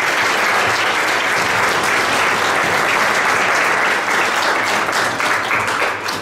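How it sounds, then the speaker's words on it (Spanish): Loud, sustained crowd applause at a quinceañera celebration, steady and full for about six seconds before easing slightly at the end. "Le damos un fuerte aplauso a esta muchacha."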